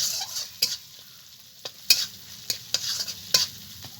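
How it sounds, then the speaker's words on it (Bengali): Spice paste with dried chilli powder stir-fried in a pan: a soft continuous sizzle broken by sharp, irregular scraping strokes of a spatula, close and alone. "আর মশলাটাকে একটু ভালো করে কষিয়ে নেব।"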